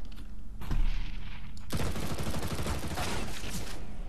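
Rapid bursts of gunfire from the Counter-Strike: Global Offensive video game, loud and dense, erupting suddenly after a quieter stretch of game ambience and continuing as a sustained volley.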